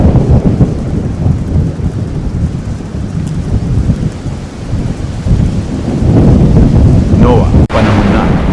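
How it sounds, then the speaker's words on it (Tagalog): Heavy rain pouring down under a darkening sky, a dense loud roar of rainfall with rumbling thunder, swelling stronger toward the end with a sharp crack near the close. "Ang langit ay unti-unting nagdidilim at nagsisimula ng bumuhos ang ulan."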